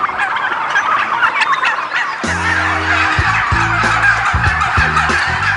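A flock of turkeys gobbles loudly and close by in repeated overlapping bursts of warbling calls, over a busy farmyard background with no talk.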